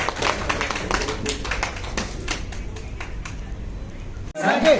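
An audience at a grand opening ceremony for an animation, VFX, gaming and design institute claps together in a steady, dense patter. The applause carries on evenly for several seconds, then cuts off briefly before resuming.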